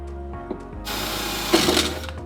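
A drill bores into a Nissan 370Z headlight housing outdoors, its steady whirring grinding starting after a short pause and swelling louder partway through as the bit bites in, running continuously to the end.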